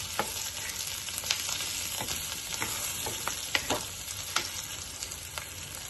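Melon seeds and cashews fry in hot oil for a shahi malai kofta gravy, a soft steady sizzle broken by sharp scraping clicks as they are stirred in the pan.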